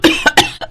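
An elderly woman with a dry, parched throat coughs in a Hindi moral story set during summer water shortages: four sharp, close coughs in quick succession, the last one lighter.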